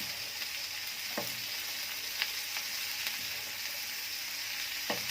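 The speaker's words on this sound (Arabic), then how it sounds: "هنقلب كويس" Spiced tripe fries in a pan with onion and pepper, hissing in a steady loud sizzle close up, while occasional scrapes and taps from a stirring utensil break through; no one speaks.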